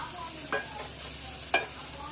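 Broad bean (chikkudukaya) curry stirred in a pan, a soft continuous sizzle with two sharp scraping clacks of the spoon against the pan, close and quiet.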